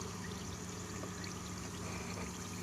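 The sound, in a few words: chemical reaction bubbling on kimberlite rock specimen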